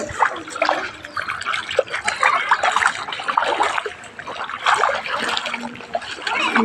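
Water splashing and trickling across a flooded street, a steady busy wash of splatter near the listener with some background voices.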